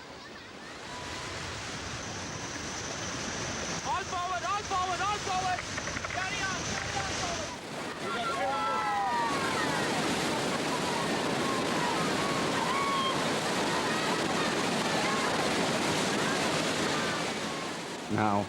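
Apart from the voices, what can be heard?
turbulent Brahmaputra river rapids tossing a rubber raft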